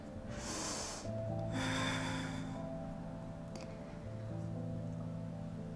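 Two long, airy breaths, a strong inhale-like rush then another, taken during a vinyasa yoga flow, heard fairly close over soft sustained background music.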